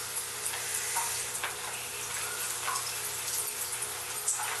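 Bread slices frying in hot oil for a sweet bread halwa, giving a steady close hiss and crackle that holds an even level throughout without any talk.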